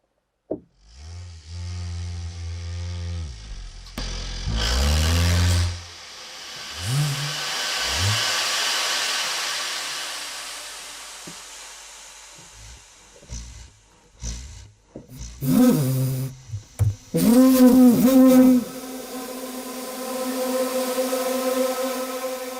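A harsh, distorted burst of designed sound swells and then trails off into a long, washy reverb tail, followed by further processed, echoing hits.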